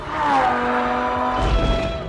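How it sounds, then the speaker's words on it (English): A Lamborghini Huracan LP580-2 sports car on a race track, its engine droning loud and close with a steady high whine that shifts pitch partway through, over tyre and road roar. "is a Lamborghini Huracan"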